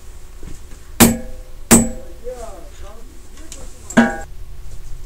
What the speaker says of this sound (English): I had to switch to a little bit bigger hammer. This is a 4-pound Stanley.